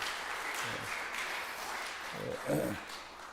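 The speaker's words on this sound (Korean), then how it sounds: "우리 박수합시다" A church congregation at a Sunday service applauds, a modest, fairly quiet round of clapping with some speech-like voices mixed in and a slight swell near the end.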